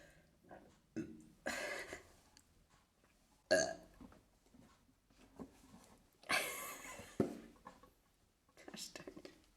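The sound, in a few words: burp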